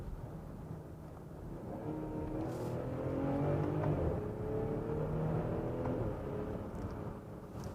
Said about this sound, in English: we'll do one short acceleration